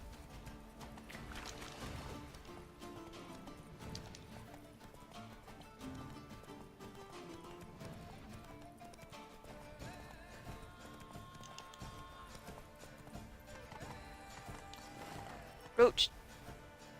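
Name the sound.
horse Roach galloping, from video game The Witcher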